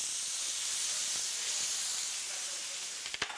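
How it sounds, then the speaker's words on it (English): Stuffed pork tenderloin searing in very hot oil in a pan, a loud, steady close hiss of spitting fat that holds throughout, with a few quick clicks and knocks at the end. "we're just going to let this sear"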